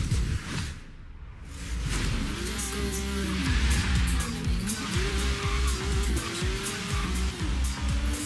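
A BMW M4 race car in Forza Horizon 3 pulls away from the start, its engine revving up through rising gear changes with tire noise and a steady loud roar.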